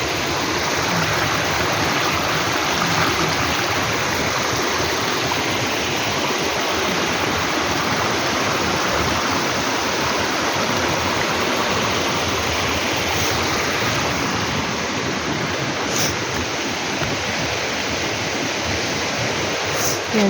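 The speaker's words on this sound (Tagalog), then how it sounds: "Hot spring yan. Init-init na tubig." Hot spring water in Anhawan, Southern Leyte, flows with a continuous, even rushing wash that stays close and fairly loud from start to finish, with no clear talk over it.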